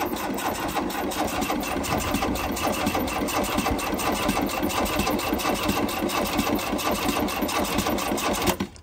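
A VW Vanagon barn-find engine cranks steadily for several seconds without catching, the starter making a fast, even chugging rhythm that cuts off at the end.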